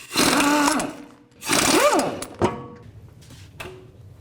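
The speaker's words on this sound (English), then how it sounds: "Take a 21mm socket, take the lug nuts off, and remove the tire." Lug nuts being spun off a Toyota RAV4 front wheel with a 21mm socket on a power tool, two loud close whirring bursts with rising and falling pitch, followed by a clunk and fainter rattles.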